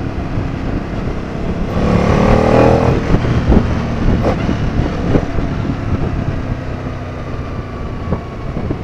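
An Aprilia Caponord 1200 Rally motorcycle engine drones loudly while being ridden, a continuous rumble that swells as the throttle opens and then holds steady, mixed with road and wind noise.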